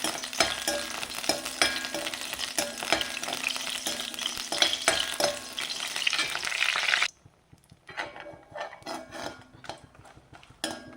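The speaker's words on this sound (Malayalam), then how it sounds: "അഞ്ച് പച്ചമുളക് വെളിച്ചെണ്ണയിൽ വറുത്തെടുക്കാം" Five green chillies crackle and sizzle loudly in hot coconut oil, then the sizzling suddenly cuts out, leaving sporadic scraping and stirring sounds.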